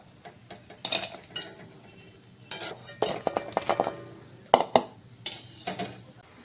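A slotted spoon knocks and scrapes against a pan as fried palm fritters are lifted out of hot oil. Irregular metallic clinks and scrapes come in bursts over a faint sizzle.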